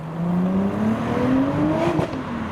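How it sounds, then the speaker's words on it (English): A turbocharged Volkswagen Golf accelerates past at a busy car meet, its engine note climbing steadily in pitch for a couple of seconds. The sound is fairly close and continuous, with no talking. "And here goes the turboed Golf"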